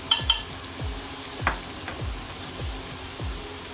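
Mutton mince sizzles steadily in a pan with ground red masala, turmeric and crushed coriander, while a spoon stirs and scrapes in a regular rhythm of soft knocks close by; no one speaks.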